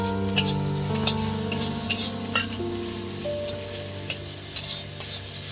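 Butter sizzles and crackles in a pan while chowmein is being prepared, with steady frying hiss broken by stirring scrapes and small clinks, close and continuous, with no voices.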